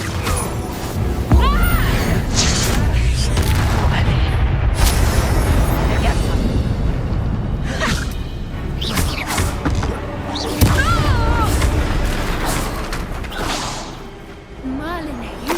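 Repeated Confringo fire-spell blasts in the Hogwarts Legacy video game, loud booms and crashes recurring through a busy combat mix with voices talking over them.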